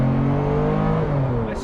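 A supercar engine with no windscreen fitted, revving loudly and steadily close by in a continuous, droning blare.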